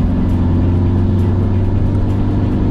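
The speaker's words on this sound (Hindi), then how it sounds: "आप गाड़ी को ज्यादा पुश कर रहे हो तो इंजन नॉइज काफी प्रोमिनेंटली सुनाई दे रहा है अंदर कैबिन में" A steady, loud engine drone fills the cabin of a Tata Harrier SUV pushed at high speed, a constant low rumble with no talking.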